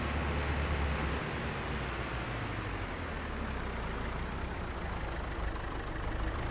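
A tractor engine in Farming Simulator 22 runs at a steady, low, rumbling idle, faint and continuous with no talk over it.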